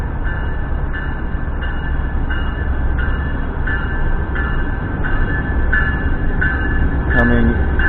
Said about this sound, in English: Coming into the station just to my left.